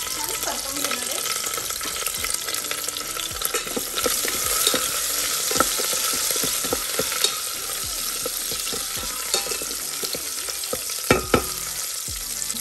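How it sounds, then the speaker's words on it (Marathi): Green chili and garlic sizzle and fry in a hot pan while being stirred, a steady loud crackle with scraping stir strokes and occasional clinks throughout. "आणि ग्रीन चिली, थोडंसं गार्लिक आणि त्याचा छान परतवून घेणार आहे."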